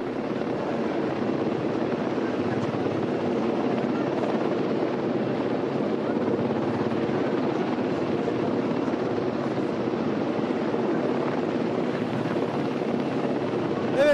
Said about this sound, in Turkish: Şu anda iki tane Sikorsky helikopter 7. Kolordu Komutanlığı'nda bulunduğumuz Diyar Galeri'ye geldi